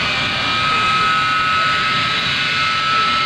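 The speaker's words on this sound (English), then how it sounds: "Now take a look at this giant airplane making a 180-degree turn just within the confines of the runway." A C-5A Galaxy jet transport swings through a 180-degree turn on the runway at the 2003 New York International Airshow, its engines roaring loud and steady with a high whining tone throughout.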